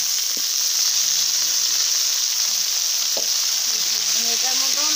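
Chutney (bata) ingredients fry in a pan over a village cooking fire, a steady broadband sizzle running throughout with occasional clinks and stirring scrapes, faint speech-like murmurs low in the background.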